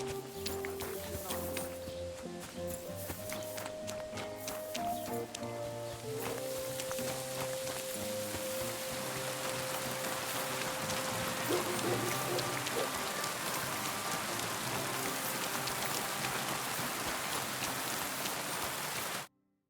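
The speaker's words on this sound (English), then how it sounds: "Rain again." Steady rain falling in the medieval world of the video game Kingdom Come: Deliverance II, a continuous patter on surfaces with horse hoof clops and a melodic music line mixed in, ending abruptly.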